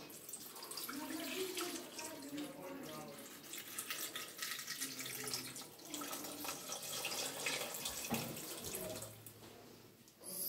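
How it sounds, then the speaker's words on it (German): Half a litre of water runs from a tap into a Thermomix bowl for a lemon recipe, a steady, close splashing stream lasting about ten seconds with slight changes in pitch as it fills. "Erstmal 1/2 Liter Wasser."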